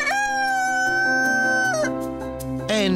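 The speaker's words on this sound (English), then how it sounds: "The rooster's still crowing." Close, loud crowing from a rooster at an animal rescue village: a long sustained call that breaks off near the end, followed by the start of another crow.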